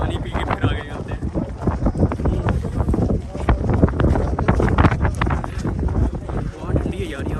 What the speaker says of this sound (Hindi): यहाँ पे बड़ी ठंडी हवा चल रही है